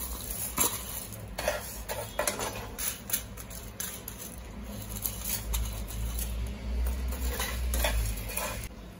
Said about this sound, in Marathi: आता तांदूळ सुद्धा याच पद्धतीने आपल्याला मस्त खरपूस असे भाजून घ्यायचे.